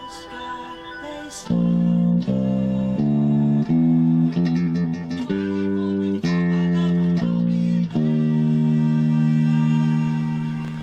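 A bass guitar plays a short bridge riff, sustained low notes shifting between pitches in a steady pattern, clear and upfront with no talking.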